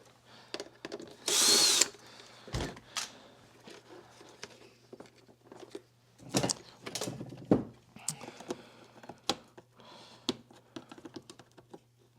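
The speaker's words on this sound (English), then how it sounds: "We remove the screw." Small screw being removed from the circuit board of an Oreck DutchTech DTX1400 upright vacuum during repair, with close, intermittent clicks, taps and a brief buzzy burst like a driver, scattered over quiet room hum.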